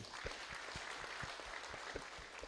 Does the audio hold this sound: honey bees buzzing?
no